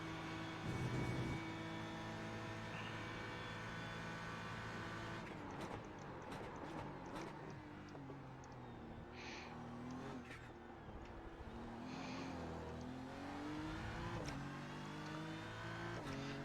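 Race car engine in a racing video game, with a Lamborghini close behind; a steady loud engine drone rises and falls in pitch through gear changes and corners, with no talking.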